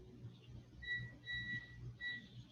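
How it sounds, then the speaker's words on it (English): A passing train sounds its whistle in a few sustained, steady blasts, fairly distant and moderately faint over a low rumbling background, with no talk over it. "Just have the train whistle go by for."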